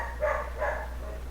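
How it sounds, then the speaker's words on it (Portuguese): A dog barks twice in quick succession, somewhat muffled as if from another room, over a steady low hum. "Ó, o cachorro está desesperado."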